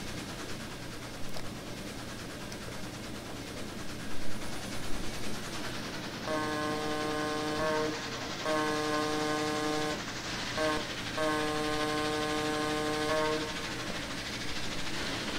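Air horn on the MNRR MT-3 4-8-2 steam locomotive in Trainz 2019, blowing three long chord blasts separated by short gaps over a steady rumble of the running train.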